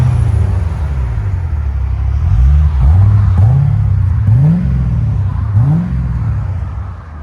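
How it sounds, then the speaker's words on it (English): A C4 Chevrolet Corvette's 5.7L V8 with a Borla ProXS exhaust idles with a deep, steady rumble, then blips its revs several times in a rising, falling rhythm, close and loud with no talking. "Deep, clean tone. Borla ProXS always sounds good on anything."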